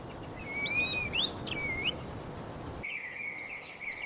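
An eagle at its eyrie calls with a few thin, high whistling notes that slide and waver, followed by a steadier high call against soft outdoor background noise.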